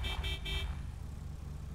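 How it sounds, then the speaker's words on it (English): A vehicle horn in the video game GTA 5 gives three short, quick beeps, then stops, leaving a low engine rumble; it is fairly faint overall. "I got a horn."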